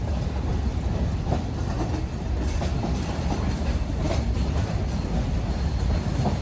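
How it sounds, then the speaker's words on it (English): Long Island Rail Road Oyster Bay branch diesel train with dual-mode locomotives and multi-level coaches passing close by at rush hour, a steady loud rumble with rhythmic wheel clatter throughout. "rush hour Oyster Bay branch train number 505 heading to Penn Station"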